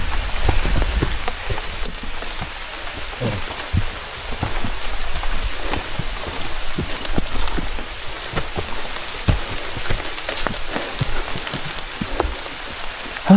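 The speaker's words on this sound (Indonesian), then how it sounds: "sebenarnya ini bukan hujan ya, tapi air yang jatuh dari atas" Water dripping from the trees of a mossy mountain forest on Mount Gede Pangrango, mistakable for rain: a dense, steady patter of drops on leaves and ground with sharper nearby plops, continuous throughout and with no voices.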